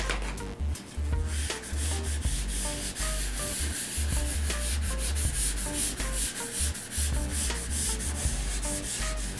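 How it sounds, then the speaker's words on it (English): A squeegee applying vinyl side art to an Asteroids arcade cabinet, making steady rhythmic rubbing and scraping strokes that repeat close and clear throughout, with no voices. "you basically just squeegee as you go"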